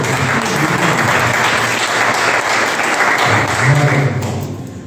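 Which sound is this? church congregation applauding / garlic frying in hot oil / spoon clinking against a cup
church congregation applauding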